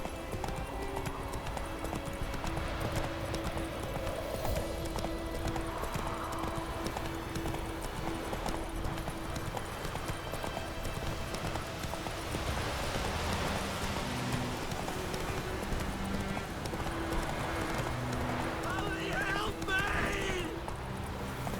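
Roach the horse gallops in The Witcher 3 Wild Hunt, a steady rapid clip-clop of hooves running continuously over a bed of game music and ambience, with a brief whinny possible.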